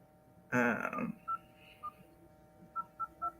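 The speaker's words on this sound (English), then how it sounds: "We're gonna call Kenneth" Phone keypad tones as a number is dialed: a loud burst first, then five short, clean beeps in an uneven sequence, fairly close and with no talking.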